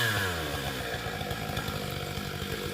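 A Stihl 661 chainsaw cuts through timber, its engine holding a loud, steady, high-revving whine from start to finish with no voices.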